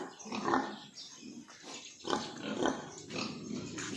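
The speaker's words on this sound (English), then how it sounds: "The pigs are fed, the feed in front of them." Pigs at their feed trough grunt and snuffle repeatedly at close range, with irregular bursts of rooting and chewing noise and no talk.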